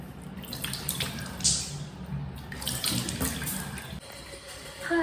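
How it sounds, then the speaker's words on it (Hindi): Cold water running from a tap while a face is washed at a sink, a steady close splashing stream with irregular splatters and drips throughout, no talking. "अभी ये ठंडे पानी से मुँह धुल रही हूँ"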